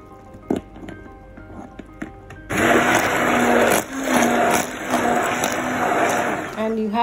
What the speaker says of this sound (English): use an immersion hand blender to blend the soup until the texture is smooth